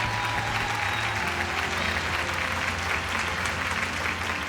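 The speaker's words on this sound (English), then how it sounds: "A huge round of applause," An audience claps for a second-place finisher at an insurance industry competition event, a steady wash of applause, fairly loud and unbroken, without speech over it.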